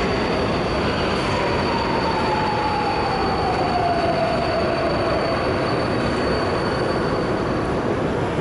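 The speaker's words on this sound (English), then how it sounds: "And that looks like it's going to be our train." A Budapest Metro Line 4 driverless train rumbles steadily into a station, a long descending wheel squeal running through the middle of the continuous loud roar.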